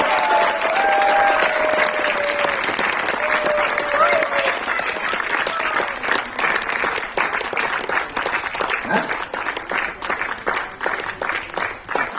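Sustained audience clapping fills a seminar hall during an app inauguration, loud and dense throughout, thinning slightly toward the end, with a faint voice briefly heard early on.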